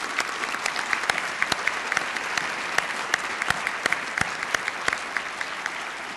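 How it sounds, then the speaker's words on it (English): A full audience at an awards ceremony gives a round of applause, dense continuous clapping with a few sharp nearby claps standing out, lasting about six seconds. "I invite you to help me celebrate them with a round of applause."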